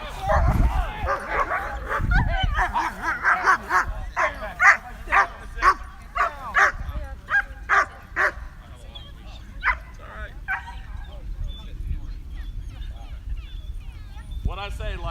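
Several dogs at a group obedience training class in a park bark, yip and whimper in rapid repeated bursts, loud and close, while people talk over them.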